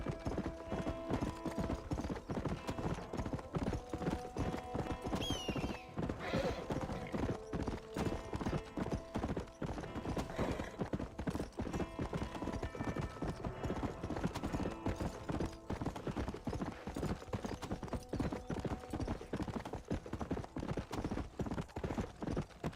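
Wild horse in Red Dead Redemption on Xbox 360, hooves clip-clopping steadily and close throughout, with a brief neigh partway through over a continuous game soundscape.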